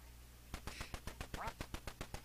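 Ducks quack in a rapid, evenly spaced series of short calls from a retro video game played on a Retron 5 console, steady and fairly quiet with no talking.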